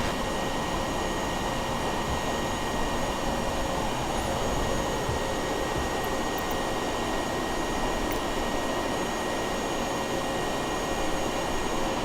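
Steady, even jet engine and airframe roar of an airliner coming in to land in Microsoft Flight Simulator 2020, a constant droning wash with no talk.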